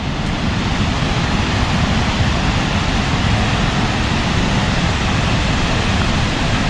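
Beaver Creek Falls in Oregon, running extremely high, roars as a dense, continuous wash of falling water that stays steady and loud throughout, with no voices over it.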